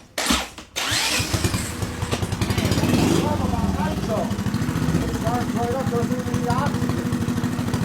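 Turbocharged engine burning nitromethane cranks and fires up, then settles into a loud, steady, rough close-up run with a pulsing low rumble and a higher whistle over it.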